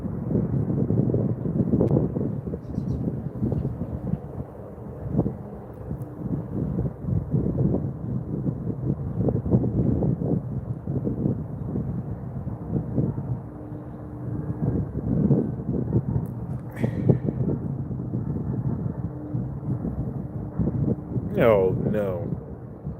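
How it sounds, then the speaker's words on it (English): Strong gusts of wind buffet the microphone at a rail junction, a steady, heavy low roar rising and falling throughout, with a few words spoken faintly near the end. "So windy."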